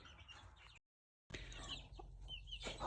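Chickens cluck softly and intermittently over a steady background hiss, with a brief gap of silence partway through.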